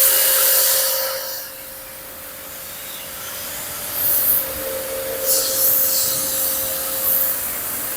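A STARQ AWP2.8 2800W, 350-bar heavy-duty pressure washer sprays while cleaning an AC unit, giving a steady close hiss with a faint motor hum and several surging bursts as the jet moves.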